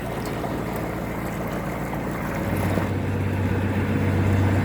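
A boat motor drones steadily while cruising, with wind and water noise around it and the engine hum growing a bit louder partway through.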